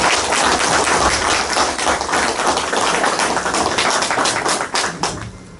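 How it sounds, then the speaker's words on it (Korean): Audience applause at an election candidate debate for the 20th National Assembly, dense steady clapping filling the hall for several seconds before tapering off at the end. "일단 후보자께 격려의 박수 한번 부탁드리겠습니다"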